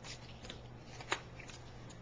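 One short snip cuts a small line on a paper craft box, a quiet close crisp cut over faint handling noise.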